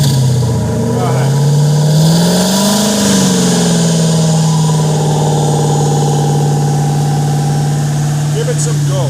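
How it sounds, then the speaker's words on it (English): An engine fitted with a newly installed twin turbo setup runs loudly close by, and its pitch swells in a slow rev before settling back to a steady idle. "Alright, I got the engine running, the turbos are hooked up."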